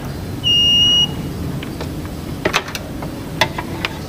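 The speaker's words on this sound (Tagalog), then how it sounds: "yung ating tester is nakalagay sa buzzer" An electrical continuity tester set to buzzer mode gives one loud, steady, high-pitched beep lasting about half a second, followed by faint clicks and taps of the probes.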